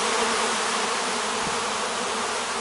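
Many honey bees swarm around a hive in a dense, continuous buzzing drone, loud and close, with no voices.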